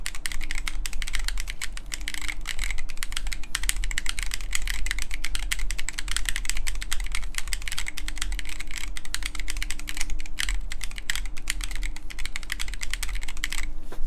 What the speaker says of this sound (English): you can imagine you're like typing super fast